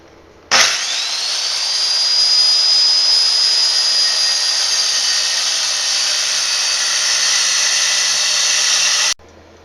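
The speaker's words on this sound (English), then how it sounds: "I've adjusted the shoe on the circular saw so it will make a 45-degree bevel cut." A circular saw with its shoe set for a 45-degree bevel cuts through wood for a French cleat: a loud, steady motor whine that starts abruptly, holds for about nine seconds, then cuts off sharply, with no talking.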